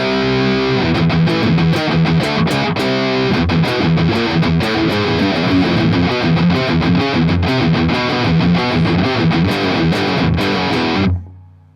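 Thrashy electric guitar through a Boss MT-2 Metal Zone distortion pedal chugs fast palm-muted riffs with sharp accented chords, loud and unaccompanied, stopping abruptly at the end.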